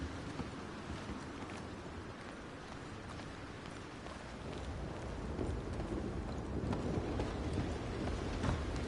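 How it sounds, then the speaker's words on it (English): Steady rain falls in the video game Red Dead Redemption 2, a continuous broad wash of hiss that swells slightly louder toward the end, with faint low rumbles suggesting distant thunder. "Rain and thunder."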